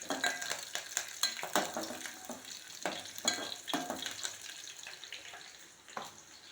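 Curry leaves fry and sizzle in hot oil in a pan. A steady hiss runs beneath close stirring scrapes and light clinks of utensils against the pan.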